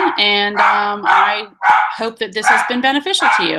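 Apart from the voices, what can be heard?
dogs barking at someone at the door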